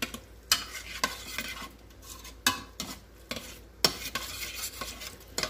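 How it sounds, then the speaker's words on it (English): Sliced beef summer sausage sautéing in a pot for soup, gentle sizzle broken by sharp clacks and scrapes of a spoon against the pot, close and quiet, no voices. "we're gonna give this a stir, and we're gonna let this saute"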